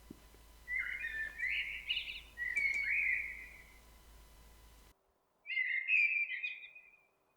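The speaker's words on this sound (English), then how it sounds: "Up in the yew trees, a blackbird began to sing his evening song." A blackbird sings its evening song from yew trees, two clear, fluting warbled phrases separated by a short pause, fairly close and alone.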